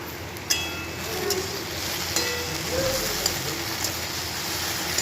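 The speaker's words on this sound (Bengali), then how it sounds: "এখানে ভেন্ডিটা ভাজছি" Okra frying in a pan produces a soft, even crackling sizzle like light rain, steady throughout at moderate level, with a few faint clicks and no talking.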